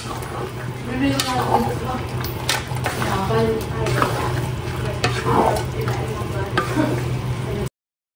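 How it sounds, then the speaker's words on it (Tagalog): A pot of fermented santol simmering and being stirred, with steady bubbling and scraping spoon strokes throughout, and a voice talking over it. "Akin na po nga haluin itong aking niluluto at kuluan."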